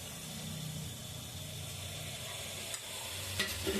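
Fried fish added to simmering Andhra fish curry and stirred, a steady close sizzle and bubbling with a couple of faint clinks of a spoon against the pot.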